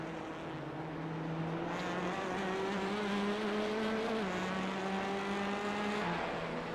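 Touring race cars coming down the Sandown straight, engines droning loud and steady with rising and falling pitch as several cars pass close, one shift audible, no talk over it.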